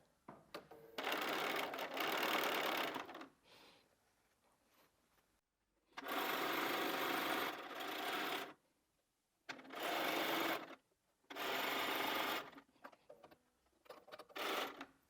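A sewing machine runs in several bursts of rapid stitching, stopping and starting with brief quiet gaps between runs, close and clear.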